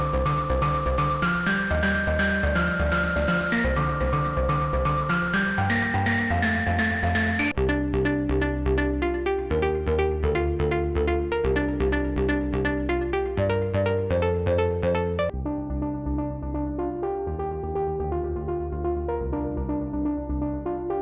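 Wavetable synth patches built in Vital or Serum, heard as three short melodic snippets in a row, each with its own bright, buzzy tone, loud and continuous with no speech.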